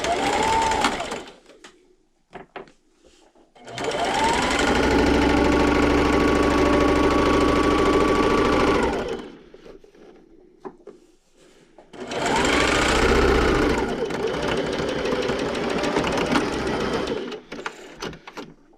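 A sewing machine backstitching the seams of quilt blocks runs in two sustained, close mechanical stitching bursts with a rapid, even whir and a short pause between them.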